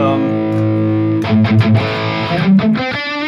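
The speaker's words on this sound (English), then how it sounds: "this is more a traditional rock tone to me" A loud, crunchy overdriven electric guitar through a Valeton GP200 rings out a sustained chord, then picks a quick rock riff with thick distortion.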